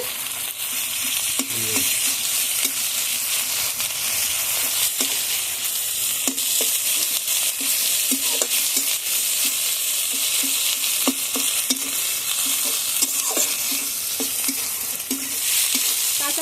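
Onion with ginger and garlic paste fries in a pan, a long steady sizzle broken by regular scraping and clinking of a spatula as it is stirred, near and constant without talk.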